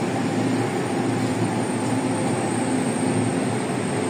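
A Taiwanese train pulls into a station on National Day with a continuous, even rumble and rolling drone that holds steady throughout, fairly close, with no one talking.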